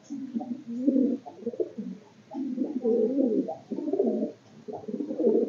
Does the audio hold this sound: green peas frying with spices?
no